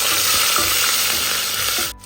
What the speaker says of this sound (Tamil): காஞ்ச மிளகாய் சின்ன வெங்காயம் சேர்த்து நம்ம இதை வதக்கலாம்